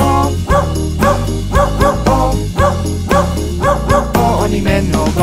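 Repeated dog barks are woven into a loud, rhythmic Czech children's song about a farmer's dog called Bingo, recurring in a regular beat with the music.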